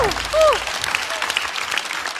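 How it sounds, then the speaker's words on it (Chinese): A studio audience at a stand-up comedy show applauding a comedian, a short burst of dense clapping with a whistle-like tone near the start and voices over it. "再次掌声送给高寒"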